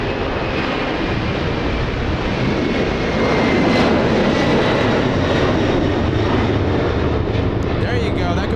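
Boeing 747 airliner flying past Los Angeles International Airport at 175 knots, a loud, sustained, close jet roar that swells slightly midway, with people talking faintly underneath.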